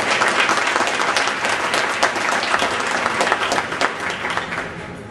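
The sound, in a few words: audience applause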